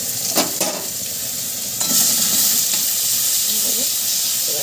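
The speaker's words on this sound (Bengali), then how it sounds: "এইবারে একটু পেঁয়াজ বাটা দিয়ে দিলাম" Onion paste frying in hot oil with garlic for a crab curry, a loud broad sizzle with spatula scrapes early and a hiss that surges and holds steady.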